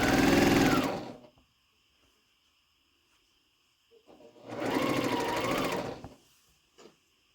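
Sewing machine stitching a North Star quilt block in two separate bursts of rapid mechanical whirring, each about a second long and close up, with near silence and faint ambient tones between them.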